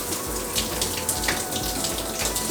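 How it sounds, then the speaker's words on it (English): Hot water running from an off-grid shower, a steady close hiss of spray with faint irregular splashing and soft low thumps throughout, no voices. "Hot shower."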